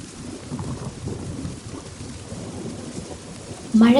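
Heavy rain pours steadily with a dense low rumble of thunder, loud and continuous, then a sharper, louder burst of storm noise near the end.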